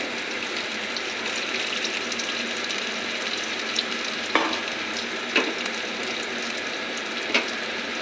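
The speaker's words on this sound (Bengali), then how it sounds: "আমার পেঁয়াজটা ভাজা ভাজা হয়ে গেছে" Onions fry in a pan with a dense, steady sizzle at close range, and a few soft clicks of stirring cut in toward the end; nobody speaks.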